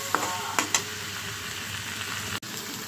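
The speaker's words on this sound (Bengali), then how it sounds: "তো মাছটা আলুটা আমি ভেজে নিলাম মশলার সাথে" Shol fish and small potatoes frying with spices in a pan, giving a steady close sizzle with a few sharp utensil clicks near the start.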